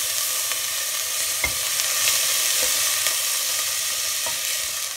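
Onion frying in a pan for an Egyptian-style creamy white-sauce pasta: a steady, loud, dense sizzle that holds throughout, with a few faint clicks of stirring and no talking.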